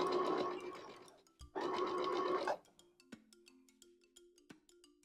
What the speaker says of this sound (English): you're going to sew this way so that your seam allowances are on the top